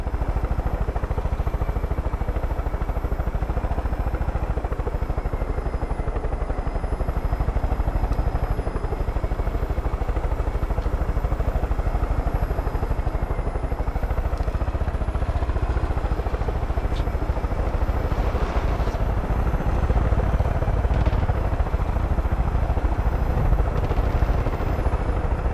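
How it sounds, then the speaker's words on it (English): A helicopter flown in Far Cry 5 holds a continuous loud rotor whir and engine roar throughout, steady and close with faint clattering on top. "Flying a helicopter seems pretty easy."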